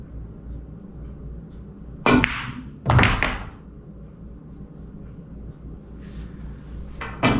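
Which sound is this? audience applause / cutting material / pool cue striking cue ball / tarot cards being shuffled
pool cue striking cue ball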